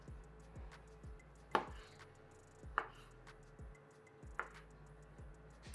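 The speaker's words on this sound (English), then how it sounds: "I'm just going to cut the tomatoes into quarters." Knife cutting tomatoes into quarters on a board, a few sharp separate chops spaced about a second apart over a steady background hum, close and fairly quiet, no voices.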